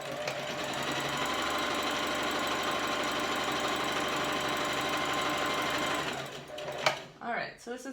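A sewing machine stitches across the top of folded cotton mask fabric in a fast continuous mechanical whir for about six seconds, then stops, followed by brief handling noise and faint sounds nearby.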